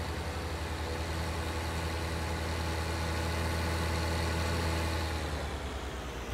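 Combine harvester engine idling in Farming Simulator 19, a steady low droning hum with a constant mechanical tone, sustained evenly across the whole stretch with no talking.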